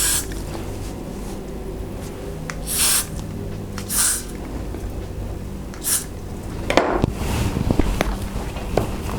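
Glue spray hissing onto the lace of a long highlighted synthetic wig in a few short close bursts with pauses between, followed by rustling handling noise.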